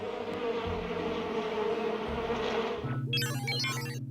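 Honeybees buzz in a close, steady drone that holds throughout, joined near the end by a brief higher, chirping tonal overlay.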